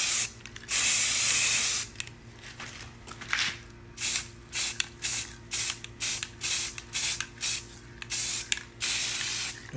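Spray can bursts coating a metal item with paint: one long hiss, then a steady series of short, loud, evenly spaced sprays, close up with no talking.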